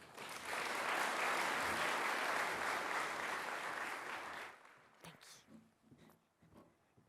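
Audience applause at the Sydney Summit 2024 welcoming a speaker onto the stage: loud, dense clapping for about four and a half seconds, then fading to a few scattered claps and faint room noise.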